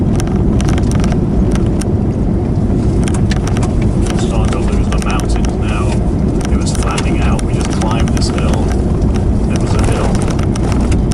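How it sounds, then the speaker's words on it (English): Continuous loud engine rumble of a vehicle driving along a remote mountain ridge road in Alaska, heavy with wind buffeting on the microphone and intermittent talk over it. "There's a vehicle coming or going, I'm not sure."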